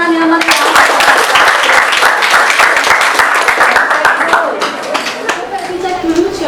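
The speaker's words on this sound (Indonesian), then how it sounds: "Oke, kasih tepuk tangan yang meriah." Students in a mathematics classroom clap for a student group, a loud, dense burst of clapping with individual claps standing out as it gradually thins, with voices talking alongside.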